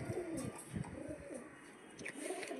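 Soft, low cooing from a group of pigeons on a sunny rooftop, repeated murmuring calls blending into faint background noise, quiet and somewhat distant.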